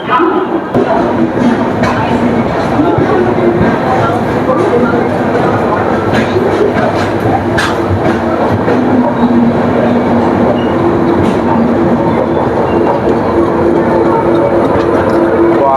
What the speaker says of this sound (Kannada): ಈಗ ನಮ್ಮ ಟ್ರೈನ್ ಡಿಪಾರ್ಚರ್ ಆಯಿತು, ಬನ್ನಿ ನೋಡೋಣ.